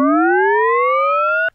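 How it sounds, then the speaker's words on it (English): A synth oscillator in Ableton sweeps smoothly upward in pitch under LFO modulation, one steady siren-like tone, loud and alone, cutting off abruptly at the end. "We're just going up in pitch like we were before"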